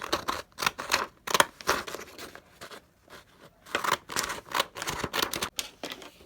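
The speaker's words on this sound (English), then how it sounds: "I'm going to take these decorative scissors and I'm going to cut" Repeated snipping of decorative scissors cutting through fabric in quick bursts, with brief pauses between runs of cuts.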